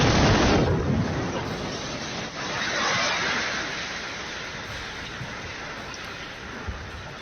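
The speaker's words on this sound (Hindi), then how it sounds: "ये बैरूत है, जिसमें एक के बाद एक कई धमाके यहां पर कैमरे में कैद हुए हैं" Loud, dense rumbling roar of explosions from missile strikes in Beirut, with a heavy burst at the start, a second swell a few seconds later, then sustained low booming noise.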